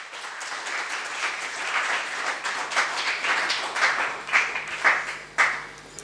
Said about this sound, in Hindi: तो एक बार आदेश दीजिए तालियों के साथ।